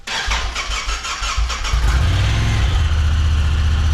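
A wrecked UTV engine cranks in short bursts, then catches and settles into a loud, steady idle close by.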